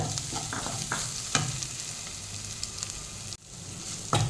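Green chillies fry in a pan for egg chilli, giving a continuous close sizzle broken by a few stirring clinks and scrapes, with a brief drop partway through and no talking.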